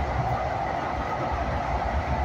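Steady rumbling roar inside a moving passenger train, continuous low-frequency noise with faint rhythmic rattling and no voices.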